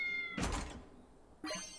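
A cat in the video game Fantasian gives a short, clear meow, framed by soft game music tones before and after.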